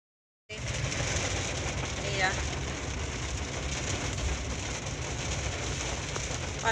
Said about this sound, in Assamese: বৰষুণটো দিছে বাৰু ভালে লাগিছে